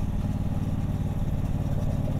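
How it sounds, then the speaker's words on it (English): A 2022 Triumph Bobber Goldline Edition with a 1200cc high-torque parallel twin engine, heard while riding as a steady, loud, low rumbling drone with continuous wind noise over it. "this bike has the parallel twin, the 1200cc high torque engine"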